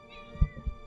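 A cat meowing in the video game Oblivion Remastered, two short, soft low mews a moment apart over a quiet steady hum, with no one speaking.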